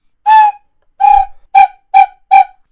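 Recorders tuned to Baroque pitch (A=415) sound five short, clear, breathy notes at the same pitch, separated by brief silences, close and fairly loud.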